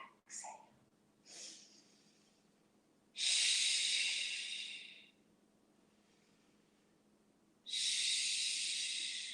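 Slow breathing during a yoga class: a few short sniffs, then two long, breathy hissing exhales several seconds apart, close and fairly quiet, with no talking.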